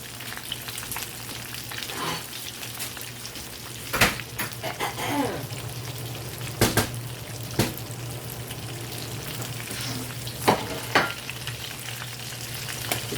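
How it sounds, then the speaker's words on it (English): Crabmeat-stuffed banana peppers fry in hot grease at 325 to 350 degrees, giving a constant close sizzle and bubbling with occasional sharp clicks and clatter from a utensil. "we're just going to let these fry"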